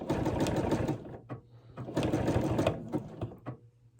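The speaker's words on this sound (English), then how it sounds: "I'm going to stitch over it. And then I'm going to back up over it." A sewing machine stitches a fabric strip rug in two loud bursts of rapid mechanical stitching separated by a short pause, then slows and stops, close by with no talk.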